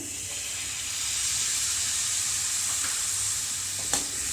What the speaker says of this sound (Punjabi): ਟਮਾਟਰ ਪਾ ਕੇ ਮਿਕਸ ਕਰ ਦਵਾਂਗੇ 2-3 ਮਿੰਟ ਵਾਸਤੇ